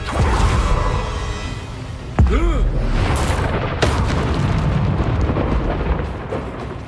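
A Bombarda spell explosion in the video game Hogwarts Legacy: a sudden loud boom bursts out of dense battle noise, followed by a rumbling, ringing tail and a second sharp hit, all close and heavy.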